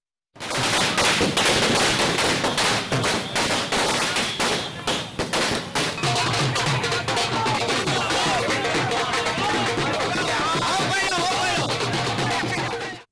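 Strings of firecrackers burst at Congress party office celebrations, a loud, dense rapid-fire crackle that runs almost unbroken for about thirteen seconds, with voices faintly underneath.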